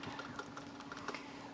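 Steady typing on a computer keyboard by a medical transcriber, with soft, quick key clicks running continuously at a low level with no talk.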